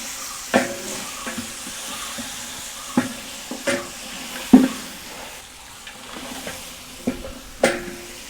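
Chicken pieces sautéing in hot oil with turmeric, a soft continuous sizzle punctuated by about eight sharp spoon knocks and scrapes against the pan, close and unaccompanied by talk.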